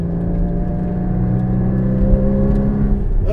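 A Porsche Cayman GT4 mid-engine sports car on track gives a loud, steady engine drone close to the listener, holding a sustained pitch with a slight swell near the end and no voices.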